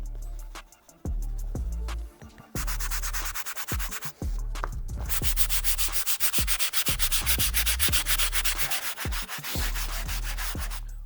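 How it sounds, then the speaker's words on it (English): Medium bristle brush scrubbing the worn insole of an Air Jordan 3 Tinker sneaker, with steady rapid back-and-forth rubbing strokes close up and loud, some brief pauses between bursts, no talking. "while I have the medium brush out, I'm gonna take care of the insole"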